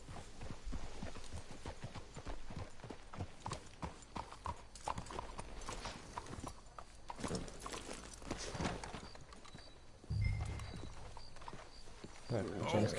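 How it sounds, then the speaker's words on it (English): Horse hooves clip-clop steadily through the Red Dead Redemption 2 game world, a continuous walking rhythm of close, crisp hoof falls with brief talk mixed in. "Let's hitch the horses up ahead."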